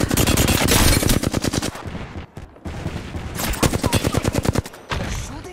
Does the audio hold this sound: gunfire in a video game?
yes